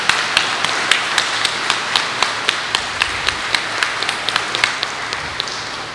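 Steady rhythmic clapping, sharp claps landing at an even, fairly quick pace for several seconds, with no voices over it.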